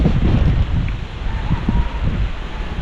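Strong wind buffets the microphone outdoors near a bridge construction site, a loud continuous low rumble with gusting surges and no clear talk over it.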